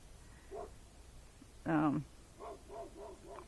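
A dog wearing a cone gives a few short barks and yips, one louder bark in the middle followed by softer whimpering yelps, fairly close with some background murmur.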